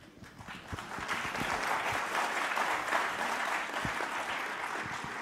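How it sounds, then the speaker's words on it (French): Sustained applause from a congress audience, a dense even patter of many hands that swells after the first second and holds steady at a moderate level, with a few sharper individual claps standing out. "des applaudissements"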